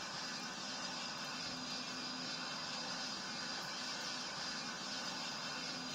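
A Lufthansa 747 in a Roblox flight sim game rolls out at full throttle for takeoff, giving a steady, broad jet engine roar that holds even throughout, moderately quiet and without speech.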